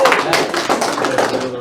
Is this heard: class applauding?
yes